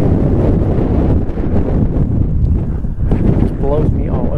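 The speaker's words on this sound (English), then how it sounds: "the wind's blowing in" Wind blowing across a fishing boat anchored on Fowl River, a loud steady rumbling buffet on the microphone throughout, with someone talking over it.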